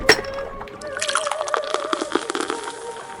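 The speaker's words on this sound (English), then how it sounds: "Open it up and pour in my mouth." Beer pours and splashes in wet, dripping, sloshing bursts in the video game Loan Shark, close and fairly soft, with a faint tonal hum beneath.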